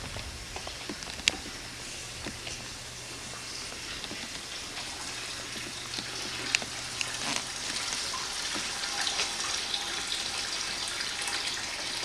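Water flows continuously at an old spring in Evening Shade, Arkansas, making a steady, close hiss and rush with a few scattered clicks and splashes. No one speaks.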